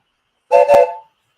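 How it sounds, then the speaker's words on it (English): Train whistle blowing, a single loud tonal blast of about half a second, close and clear against silence with no talk. "there goes the whistle"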